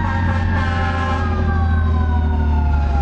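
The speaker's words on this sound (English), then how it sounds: "we'll wait till the sirens go by." Loud, close sirens wail continuously, their pitch sliding slowly downward as they pass, with heavy engine rumble beneath and no voices.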